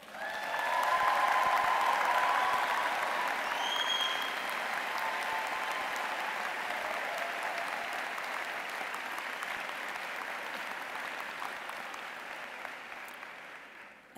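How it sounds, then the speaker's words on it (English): A graduating class at the UIC College of Social Work winter commencement ceremony receives a round of applause: steady, dense clapping from a large crowd that swells early and holds for about fourteen seconds before tapering slightly. "let's give our graduates a round of applause"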